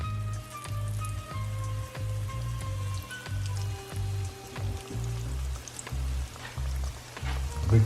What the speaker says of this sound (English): But I hear sizzling, so that's good.